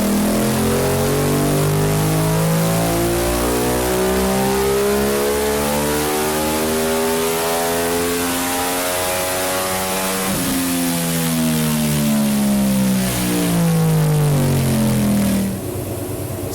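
Aprilia RS660 motorcycle with its exhaust baffle removed, run hard on a dyno: a loud, continuous engine note climbing steadily through the revs, dipping briefly, then rising again before cutting off near the end.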